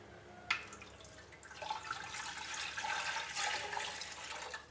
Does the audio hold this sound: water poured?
yes